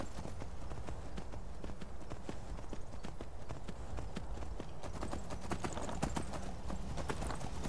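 Hooves of a galloping horse in Skyrim beat in a fast, steady clip-clop rhythm throughout, moderately loud, with no voices over them.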